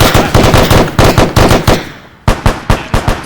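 Machine-gun fire in a military video game session, loud rapid bursts of repeated shots with a brief lull before firing resumes.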